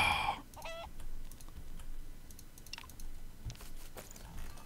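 A chicken clucks a few short times in Craft the World, fairly close, over a quiet game background with faint keyboard typing and soft clicks.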